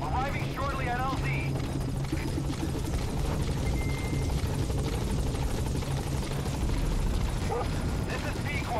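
Support helicopter arriving at a landing zone in Metal Gear Solid V: The Phantom Pain, a loud continuous rotor drone with chirping wildlife in the background and talk over it.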